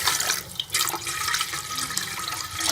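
Water, about one and a half cups, pours into a pot for sweet creamy vermicelli (seviyan), a continuous close splashing stream with small gurgling dips and no talk.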